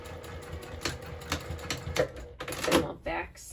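A sewing machine stitches along the edge of a fabric-scrap minimalist wallet, guided by the presser foot, running in short uneven bursts of mechanical rattle close by with a quiet voice underneath.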